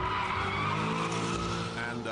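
A Chevrolet Corvette Z06 with a V8 engine drives fast, giving a loud, continuous roar with squealing tires and dense mechanical noise throughout, close and sustained with no pause.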